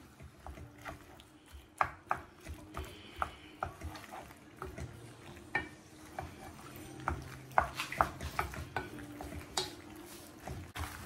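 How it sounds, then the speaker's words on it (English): Pasta is stirred together with olive oil, tuna and egg, producing irregular clinks, scrapes and soft knocks of a utensil against the pot, moderately close with no voices. "We are going to stir it. We are going to stir all together."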